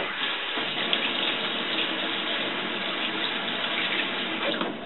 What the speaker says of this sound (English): Make sure you wash your hands before, though, with soap.